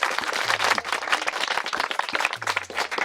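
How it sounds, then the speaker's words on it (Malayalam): An audience in a college hall at Little Flower College, Thrissur, claps in a dense burst of applause, close and lively, fading slightly midway before swelling again. "ആർദ്രയ്ക്ക് നല്ലൊരു കയ്യടി കൂടെ, ഒരു ഉത്സാഹമൊക്കെ വേണ്ടേ?"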